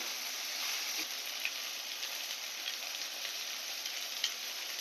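Food frying in a pan after salt and turmeric are added, a steady soft sizzle with faint crackles, even and continuous at low-moderate level with no talk.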